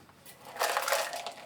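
Ice going into a Jungle Bird cocktail glass, a rattling, crunchy clatter that builds after a quiet start and stays loud and close for about a second before easing off.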